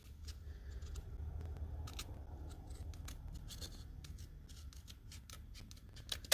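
Scissors trimming a Christmas card, a run of quiet crisp snips in quick succession against a faint low background hum.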